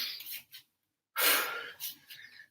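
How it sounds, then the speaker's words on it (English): Heavy, close breathing during a workout: a few short breaths followed by one long, loud exhale and a couple of quicker puffs. "Breathe in, breathe out."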